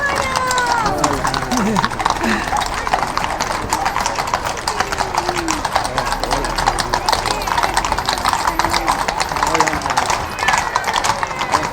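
Horses clip-clop steadily along a street during the Tres Tombs festival in Vilanova i la Geltrú, dense rhythmic hoofbeats close by, with people talking and a crowd murmuring around.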